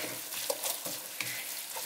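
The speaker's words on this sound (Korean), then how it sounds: "네, 골고루 섞어가면서 30초 정도 볶아줄 거예요." Cabbage and tuna being stir-fried in a pan give off a soft, continuous sizzle with light scraping and stirring sounds, fairly quiet and with no talk.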